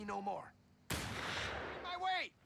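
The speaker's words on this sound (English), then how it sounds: "This way the sniper can get a shot off on approach" A single loud, sharp sniper shot in the World War II strategy game Company of Heroes 3, bursting out with a broad crack and rumbling tail between fragments of in-game voice chatter.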